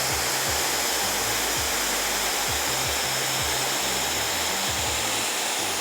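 A blow dryer used for a round-brush blowout on curly hair gives a loud, steady, close airflow roar that runs unbroken throughout, with a faint low rhythmic pattern beneath and no speech.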